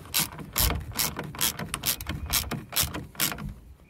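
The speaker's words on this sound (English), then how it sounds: "we're just going to wrench them tight" A ratchet wrench tightens the bolts of power-folding towing mirrors on a 2016 Ram 1500, giving repeated close, crisp bursts of ratcheting clicks in a quick, steady rhythm.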